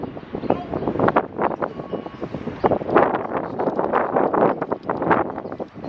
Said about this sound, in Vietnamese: Này làm gì mà gió dữ vậy trời?